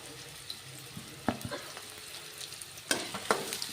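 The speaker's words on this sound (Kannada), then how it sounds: "ಈರುಳ್ಳಿ ಫ್ರೈ ಆಗಲಿ" Onions and curry leaves fry in a pan with a steady, crackling sizzle, broken by a few sharp spoon scrapes and knocks against the metal as they are stirred.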